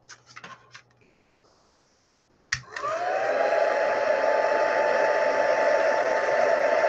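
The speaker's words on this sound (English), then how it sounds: "Let me just dry this off a bit." Hair dryer blowing to dry off an index card, switched on after a few faint scratchy handling sounds and then roaring steadily and close for several seconds.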